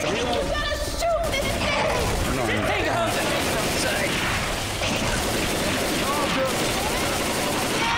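Video game gunfire in Left 4 Dead 2, dense overlapping rapid shots and rattling bursts running continuously and loud, with voices talking over the shooting.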